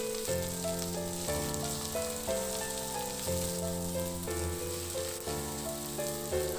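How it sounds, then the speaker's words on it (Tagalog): Onions sautéing in a pan until translucent, for a pork ribs dish: a steady soft sizzle beneath loud, continuous melodic music. "Ihalo lang din hanggang sa maluto yung sibuyas o mag-translucent."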